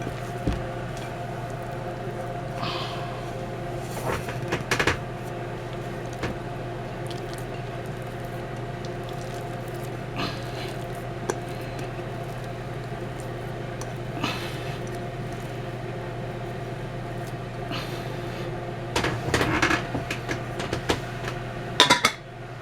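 Bread dough for a large French loaf being worked loose from the sides of a bowl, giving soft squishes and light scrapes and clinks against the bowl over a steady low kitchen hum, quiet and close.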